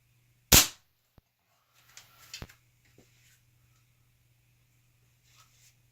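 A Weihrauch HW97KT air rifle fires one sharp, loud crack close by, followed by a few small mechanical clicks and faint handling noises in an otherwise quiet space.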